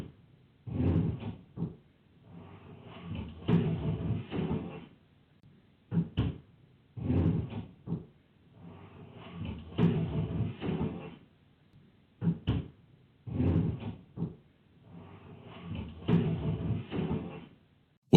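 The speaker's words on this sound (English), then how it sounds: "A dragging noise echoed from the dining room, slow, heavy, like something solid being pulled across the floor." Heavy dining set furniture dragged across a floor, slow grinding scrapes in repeated bursts with short knocks between them, fairly close and moderately loud, no voices.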